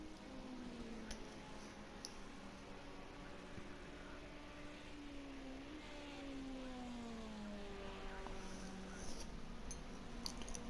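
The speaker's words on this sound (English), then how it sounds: "Just listening to the BMW engine come round as Lord Lincoln comes down Paddock Hill Bend" A BMW vintage touring car's engine revs and sweeps through its gears in the distance during a race at Brands Hatch Indy, a steady mechanical drone rising and falling under faint crowd ambience.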